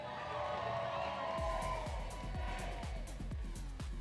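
Crowd cheering and whooping for the Blue Alliance at a Bordie Blast 2024 robotics show, a sustained broad roar of many voices building after a moment, with a pounding rhythmic beat underneath.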